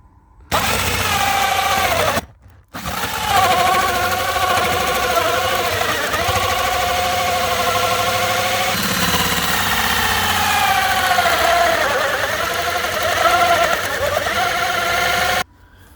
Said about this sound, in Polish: Idę po wiertło, żeby przewiercić się na drugą stronę i wytrasować z drugiej strony otwór